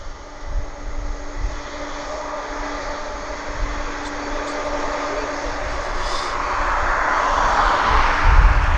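Jet aircraft engines at East Midlands Airport after dusk, a steady broad roar that builds gradually toward the end, with no talk over it.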